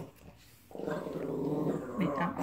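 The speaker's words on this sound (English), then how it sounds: "This dog here is about to drive me crazy." A dog growls low and continuously at close range, a rumbling snarl that starts abruptly and holds steady for about two seconds, with a faint voice in the background.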